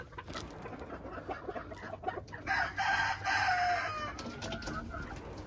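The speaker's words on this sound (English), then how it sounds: "here's the old gray F1 hybrid rooster" An old gray F1 hybrid rooster vocalizes with a strained crowing call among clucking fowl, fairly close amid farmyard background noise.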